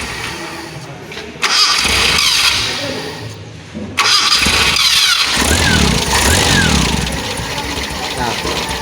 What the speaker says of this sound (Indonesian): untuk yang cara kedua yaitu dengan cara kita menghidupkan mesinnya terlebih dahulu.